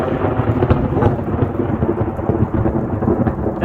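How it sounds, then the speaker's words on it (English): A nighttime thunderstorm with tornadoes nearby: dense, steady rain and gusting wind under continuous, deep rolling thunder, loud and enveloping, with no voices. "The lightning's starting to pick up. The wind is starting to pick up and the rain."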